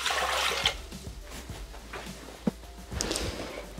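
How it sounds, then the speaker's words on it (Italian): Water poured into a Thermomix mixing bowl at the start of a Valdostana focaccia recipe, a broad rushing pour up front with a few knocks and a short splash later, no talking. "Iniziamo la ricetta mettendo all'interno del boccale l'acqua."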